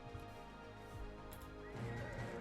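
A horse neighs in the video game Ark Aberration, a whinny over a steady game music and ambience bed with some clip-clop, fairly faint throughout.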